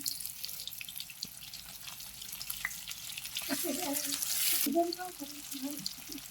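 Sliced onion frying in a pan alongside fish heads, a continuous close sizzle that swells louder toward the end, with a faint voice-like murmur partway through.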